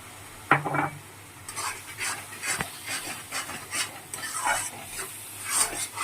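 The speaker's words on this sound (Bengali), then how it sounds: "ভালো করে কষিয়ে নেব।" Turmeric and Kashmiri chili powder fry in a pan for a duck egg curry, with soft sizzling and the repeated scrape and scratch of a spatula stirring the spices up close.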